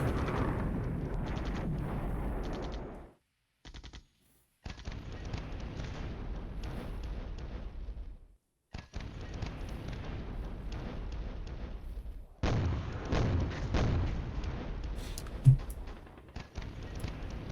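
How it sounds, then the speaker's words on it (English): Artillery fire in a NATO-era tank warfare strategy game rumbles as repeated deep booms and dull blasts, broken by brief silent gaps, with one sharper pop near the end. "Sometimes this game just plays artillery noises and I can't tell what it's doing or where."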